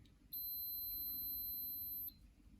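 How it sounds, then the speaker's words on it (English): A multimeter continuity test gives a single steady high-pitched electronic beep for nearly two seconds over a faint background hum. "even though you can't see the screen, you should hear the beep"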